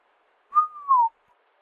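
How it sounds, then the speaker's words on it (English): A person lets out a single admiring whistle, clear and alone, with a rising start, a brief dip and a slow falling tail lasting about half a second. "I let out a whistle from the majesty of the old house"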